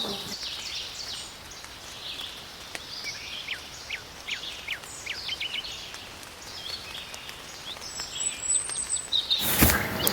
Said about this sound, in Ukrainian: Правильно, це пташиний спів.